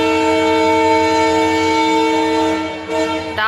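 A train sounds a long, steady horn close by, holding a single tone for about three seconds before breaking off, with rail rumble underneath and no voices.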